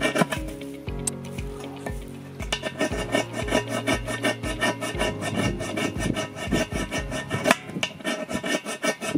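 Steady, rhythmic rasping of a fire striker being scraped outdoors over grass, each stroke loud and close in a continuous series with no speech.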